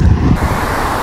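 Cool outdoor wind blows steadily across the microphone, a loud rushing buffet that dips slightly after the first moments and then holds as a continuous roar, with no one speaking.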